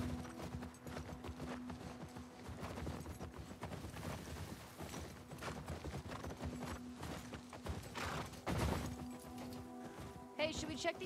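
Horse hooves clip-clopping steadily in The Last of Us Part II video game, a continuous quiet walking rhythm under people talking, with a brief louder thud partway through.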